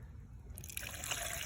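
Distilled water trickles from a wood-fired still in a faint, steady flow that brightens and thickens partway through, as if filling a container. No voices are heard.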